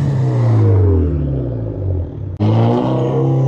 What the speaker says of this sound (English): let's just go see if he could rev it up